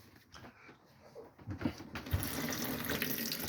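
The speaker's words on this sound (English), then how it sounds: "Vanity sink, yeah, it's all working fine. Warm water coming through there." Warm water running from a vanity sink tap, starting faintly with a few clunks of the tap and rising into a steady close hiss and splash.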